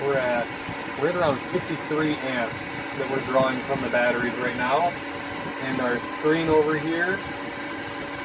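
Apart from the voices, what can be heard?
inverter cooling fans running under load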